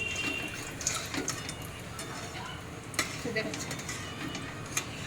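Bengali lentil fritters (bora) frying in a pan at a home cooking event, stirred with a utensil: a steady soft sizzle under occasional clinks and scrapes of metal against the pan, with faint background voices.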